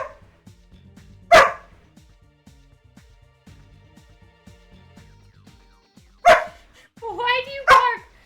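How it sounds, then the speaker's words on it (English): Dog barking, two sharp single barks a few seconds apart followed by a short run of yappy barks, fairly close, over a quiet background with faint sounds. "Why do you bark?"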